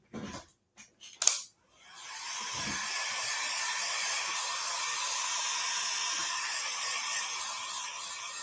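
A hair dryer blows steadily on a mixed media craft piece, a loud continuous whooshing hum starting after a few brief clicks and handling knocks, running unbroken to the end.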